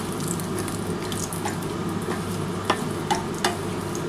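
Whole cardamom, cloves and cinnamon with cumin seeds fry gently in oil for tempering, a soft close sizzle under a few light stirring taps and scrapes, no speech.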